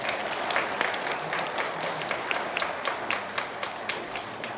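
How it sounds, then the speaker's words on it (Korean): A church congregation at a mission festival event claps together in a sustained round of applause, many hands heard at a moderate distance, steady and dense with sharper individual claps standing out. "다시 한번 박수로 하나님께 영광 돌려드리겠습니다."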